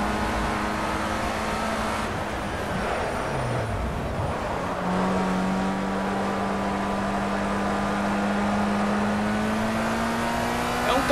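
Formula Rookie open-wheel race car in Project CARS at the Nürburgring, its engine droning loud and close, dipping low around a tight corner and then climbing steadily in pitch as it accelerates.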